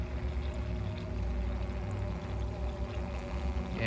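Water pumped through an aquaponics system trickles and pours steadily over rocks beside a pond with fish, a constant close, low-level splashing flow with no talking.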